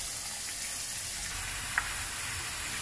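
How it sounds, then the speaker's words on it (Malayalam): Potato chips frying in sunflower oil, a steady close sizzle and bubbling that holds evenly throughout with one brief small pop, no voices. "നമ്മുടെ ചിപ്സ് നന്നായിട്ട് മൊരിഞ്ഞു വരുന്നുണ്ട്."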